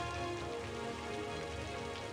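Steady rain pours throughout a city-building video game scene near a forestry industry building, a dense, even hiss with no talk over it.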